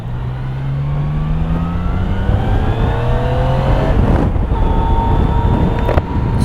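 A Yamaha Niken GT three-cylinder, 115-horsepower touring motorcycle from 2021 hums steadily under wind rush, its engine tone climbing and shifting as it rides through gears at speed.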